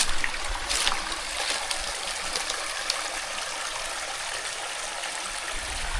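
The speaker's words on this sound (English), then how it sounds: "This is the river." A river flows under a bridge near Richmond Vale, St Thomas, giving a steady, full rush of water that stays even and close throughout, with no voices.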